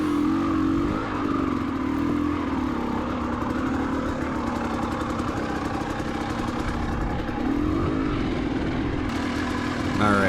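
A 300XCW two-stroke dirt bike engine lugs steadily up a trail climb, a loud continuous low drone with slight rises in revs, and a voice is heard briefly over it.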